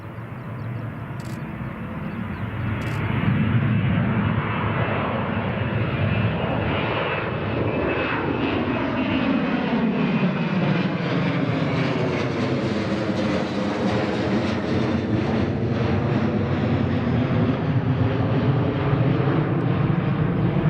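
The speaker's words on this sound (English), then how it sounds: "here goes the TUi. Nice rotation there." TUI passenger jet taking off at Newcastle Airport, a powerful engine roar building within the first few seconds and then holding as a loud, sustained rumble with a sweeping whine as the aircraft rotates and climbs.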